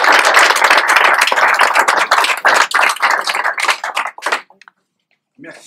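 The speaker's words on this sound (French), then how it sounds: "On s'applaudit avant." Audience claps together at an academic awards ceremony, loud close rapid clapping that thins into a few scattered claps and stops, followed by a brief bit of sound at the end.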